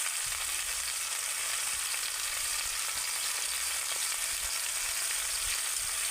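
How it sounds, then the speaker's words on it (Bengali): Vegetables for shukto frying in a pan with ground spice pastes of ginger, green chilli, mustard and radhuni, giving a steady, close crackling sizzle throughout with no talking. "এবার আমি সমস্ত বাটা মশলা দিয়ে এই ভাজা সবজিটাকে ভালো করে আরেকটু নেড়ে ছেড়ে নেব"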